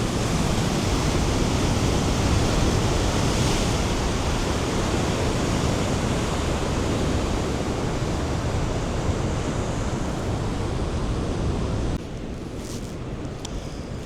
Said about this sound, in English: Just love watching the waves.